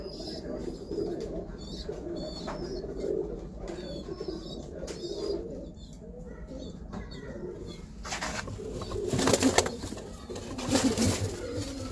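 Pigeons, including a red female and a golden female, coo softly in repeated low calls close by, with a few rustles and wing flaps near the end.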